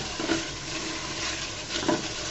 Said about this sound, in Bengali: 2-3 মিনিটের মতো এই কলিজাগুলোকে এখানে ভেজে নেব বন্ধুরা